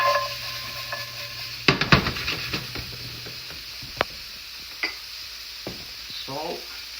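Food being stirred and flipped in hot oil, seasoned with salt and pepper, sizzles steadily while a utensil scrapes and clacks against the pan in a burst of sharp knocks, then fades to occasional taps over the hiss.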